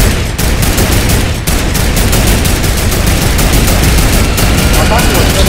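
Dense, continuous video-game gunfire with rapid automatic bursts fills the whole stretch at high volume, with players' voices talking over it.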